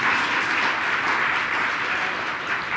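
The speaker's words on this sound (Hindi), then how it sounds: "इतनी ढीली ताली जम के दो।" Audience at a Hindi religious discourse by a Jain monk claps loudly and steadily, a dense continuous burst of applause filling the whole moment without talk.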